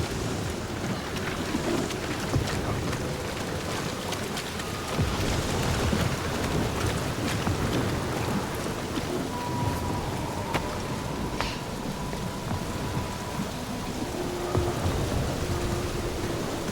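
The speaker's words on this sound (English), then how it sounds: "at least the storm's not quite as bad as it was" Steady thunderstorm with heavy rain in the Guardians of the Galaxy video game, a dense continuous downpour with rumbling thunder swells, faint game tones running underneath, no talking.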